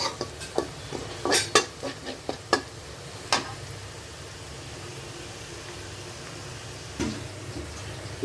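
Onions being stirred as they fry in a pan for a turnip dish, with scattered scraping and clinking of a utensil against the pan in short bursts, then mostly a quiet steady sizzle.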